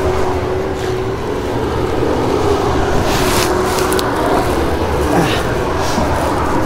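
Riding a Begode Hero electric unicycle outdoors, with steady loud wind rush and road roar throughout and a faint motor whine underneath.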